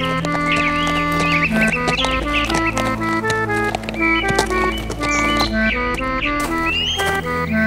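A horse's hooves clip-clop in a steady rhythm through a children's fable about a lazy horse and a merchant, mixed with bright, tuneful background music.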